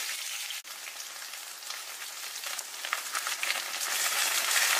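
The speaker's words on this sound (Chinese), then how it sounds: "锅中下入少许食用油，油热之后下入沥干水分的土豆条，" Potato strips, drained of water, pan-fry slowly in a little oil over low heat while preparing potatoes braised with green beans. A steady, close sizzle and crackle runs throughout with no talk, broken by a brief dip early on, then grows slightly busier toward the end.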